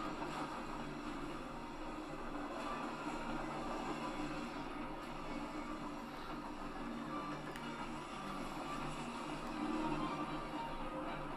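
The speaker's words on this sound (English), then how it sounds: "It's a really long train, by the way." A long train rolling along in the Hitman video game, a steady low rumble and rattling hum of rail cars that carries on evenly throughout with no speech.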